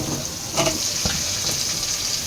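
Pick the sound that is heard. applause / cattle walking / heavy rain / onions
onions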